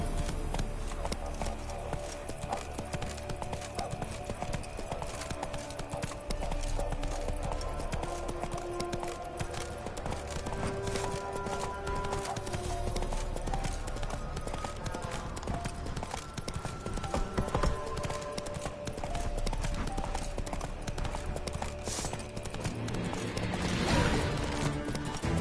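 A horse galloping in The Witcher 3 video game, with steady rapid hoofbeats close and continuous throughout and a brief snort or whinny near the end.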